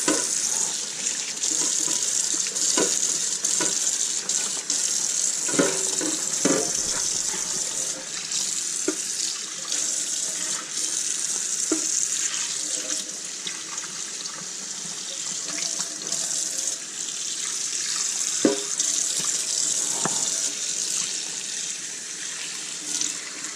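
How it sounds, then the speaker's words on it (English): A dirty pan gets rinsed under a running kitchen tap in a sink, a steady close splashing gush of water that lasts throughout and shifts slightly as the pan moves under the stream. "let's rinse this off some"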